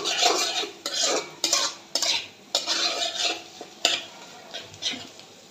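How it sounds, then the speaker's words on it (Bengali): Noodles with chicken, egg and spice mix being stirred in a frying pan, with repeated scraping strokes of a spatula in an uneven rhythm over a soft sizzle, close up and with no talk. "মশলাটা অর্ধেক দিয়ে সবগুলোর সাথে ভালো করে মিক্স করবো"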